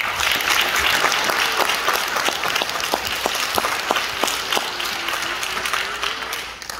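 Sustained audience applause at a Lehman High School NJROTC change of command and award ceremony honoring award-winning cadets, a dense steady wash of many hands with a few sharper individual claps standing out, fading slightly at the very end.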